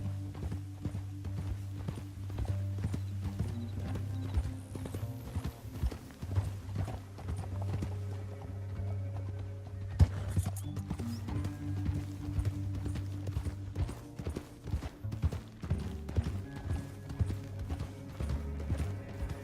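Horses' hooves clip-clop in a steady walking rhythm over a low musical backdrop in the video game Red Dead Redemption 2, with an occasional faint whinny.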